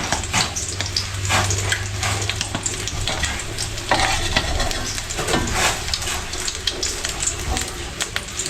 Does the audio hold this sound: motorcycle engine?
no